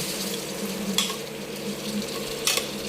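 Food being stirred in a frying pan over a steady sizzle, with a couple of sharper utensil scrapes against the pan, close and moderately loud, no talking.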